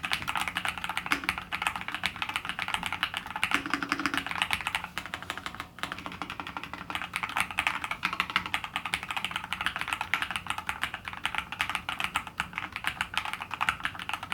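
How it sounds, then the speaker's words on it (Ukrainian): Steady typing on a quiet HATOR Icefall PRO Wireless mechanical keyboard, soft muffled key presses in a rapid, continuous stream, close up and without voices. "Навіть при активному наборі клавіатура не дзвонить і не створює неприємного відлуння."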